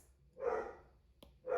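A dog barks twice indoors, two short moderately loud barks about a second apart with a faint click between them.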